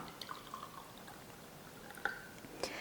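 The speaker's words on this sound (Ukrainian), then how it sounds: "Так, і наливаю зараз в цю склянку олію." Sunflower oil poured into a glass, a faint, quiet trickle with a few soft drips and small splashes, heard alone.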